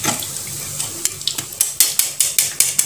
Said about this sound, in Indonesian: Kita goreng yang sisanya sampai habis ya.